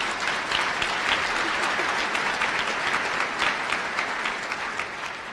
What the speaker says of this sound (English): So if I could get a little round of applause.